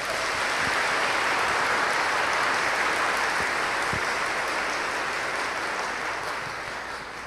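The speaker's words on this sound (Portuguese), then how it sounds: "dar uma grande salva de palmas para ele" A church audience gives a big round of applause during a Mass, a steady even wash of clapping that gradually fades out over the last seconds.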